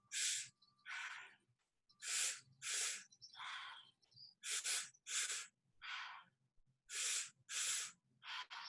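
Breathwork session with repeated mouth breathing: paired sharp inhales followed by long whooshing exhales, about ten loud breaths in a steady rhythm, close and alone with no talk.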